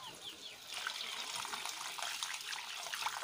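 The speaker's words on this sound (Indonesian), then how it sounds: "Airnya udah kita masukin semua aja guys." Water pours steadily into a cooking pot with a soft, continuous splashing rush that grows slightly fuller, fairly faint and close, with no talking over it.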